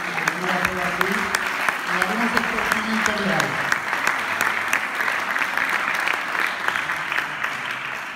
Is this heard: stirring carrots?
no